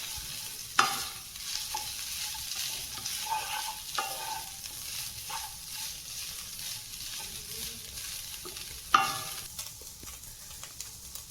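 Capsicum strips and carrot stirred in a hot pan, a soft continuous sizzle with scraping stirs and a few sharp clacks of the utensil against the pan.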